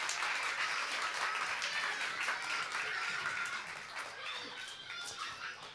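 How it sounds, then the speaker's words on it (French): Audience applause for a chef at a family church gathering, steady lively clapping that holds for several seconds and then eases slightly toward the end. "Allez, on l'applaudit plus fort."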